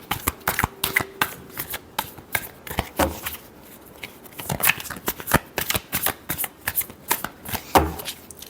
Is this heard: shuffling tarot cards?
yes